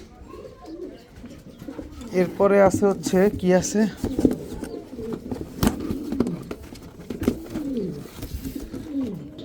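Pakistani teddy pigeons coo in soft, throaty bursts close by, one rolling series standing out, while someone talks over them in a cluttered room.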